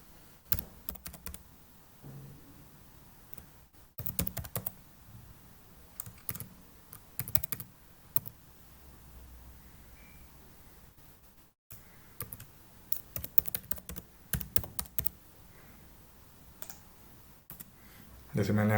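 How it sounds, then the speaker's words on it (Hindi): Computer keyboard typing while an online cabin crew job application is filled in: close, quiet key clicks in irregular bursts, broken by short pauses. "मैं इसमें सारी चीज़ें आपकी कुछ भी टाइप कर देता हूँ"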